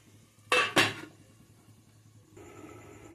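A lid is set onto a cooking pot of boiling potatoes in a home kitchen, making two sharp metallic clanks close together, followed by quiet bubbling and steady background hiss.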